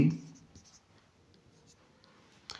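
Chalk or marker writing on a board during a topology lecture makes brief faint scratchy strokes, with someone speaking at the start and a sharper tap near the end.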